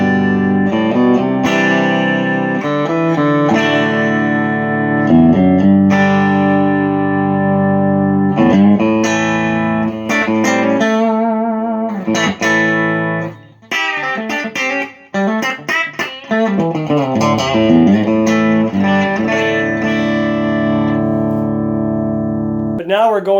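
Telecaster played on its bridge pickup through a Fender Deluxe Reverb with an Alnico Jensen P12R speaker, giving a loud, sustained run of strummed chords and single-note lines with brief gaps near the end.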